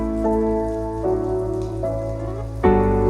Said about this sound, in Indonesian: Di shelter, hujan turun gede banget.